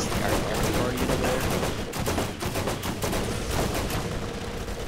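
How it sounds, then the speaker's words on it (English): Mortar fire rains down in the video game Borderlands as a dense barrage of rapid, overlapping blasts and gunfire that continues without pause, loud and close, with no clear talking. "What is this mortar fire?"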